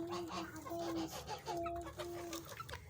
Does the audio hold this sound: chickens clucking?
yes